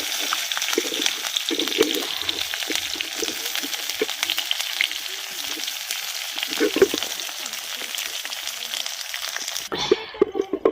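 Green chillies and capsicum sizzle and crackle in hot oil for kaju paneer, with a steady frying hiss broken by scraping stirs, and a brief clatter near the end.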